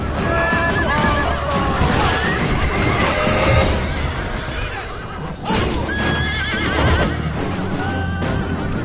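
Horses in a Persians-versus-Macedonians video game battle whinny repeatedly over galloping hoofbeats and loud battle clamor, with neighs rising and falling throughout.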